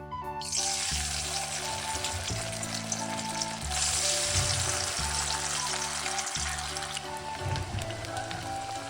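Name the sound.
frying crispy corn in a pan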